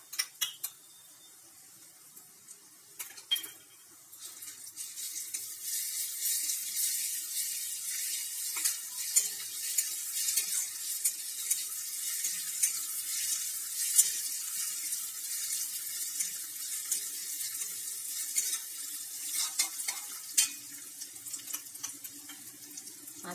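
Garlic fries with browned onions in a pan, giving a soft, steady sizzling hiss that starts faintly and builds. Occasional light clinks of stirring come through close by.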